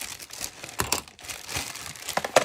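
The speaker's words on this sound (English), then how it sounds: "Let me cut into this bag." A plastic bag is cut and pulled open up close, giving a stretch of soft crinkling and rustling with a few sharper crackles.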